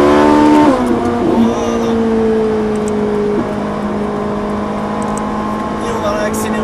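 A Ferrari 458 Italia on a circuit, its engine note dropping and then holding a steady mid-pitched drone as it eases back onto the throttle, heard from inside the car under a man's speech.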